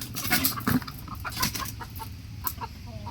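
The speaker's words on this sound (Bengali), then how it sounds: "চারটা মুরগি ধরলাম" Chickens caught from a palm plantation cluck nearby in short, uneven bursts, with a few sharper squawks over a rustling, shuffling background, and no talking.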